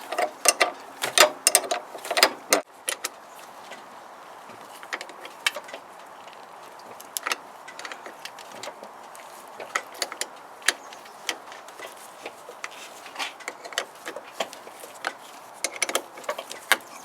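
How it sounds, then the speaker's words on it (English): A wrench loosening the battery terminals on a classic car, with rapid ratcheting clicks and metallic taps close by, steady and busy throughout, louder bursts at the start, no voices. "So I'm just going to loosen both terminals."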